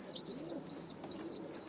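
Pigeons give soft, repeated coos and chirping calls outdoors where they feed on scattered bread and rice, a few short bursts close by and fairly quiet.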